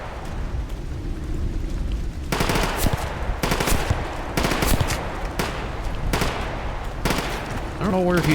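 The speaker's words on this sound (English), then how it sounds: "I don't know where he's shooting from." Automatic gunfire in S.T.A.L.K.E.R. GAMMA, a string of loud rapid bursts separated by short pauses, punchy and close against a steady game background.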